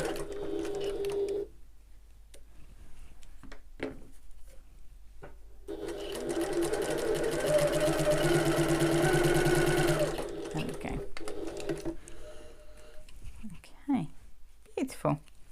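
A sewing machine stitches along both edges of a bag's strap tabs, with a steady, close run of stitching in the middle of the clip, framed by quieter stretches with speech.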